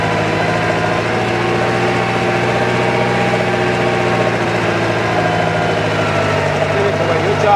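Tractor engine pulling a large cultivator in the high range's first gear, a steady loud drone with constant vibration throughout, no clear variation in pace.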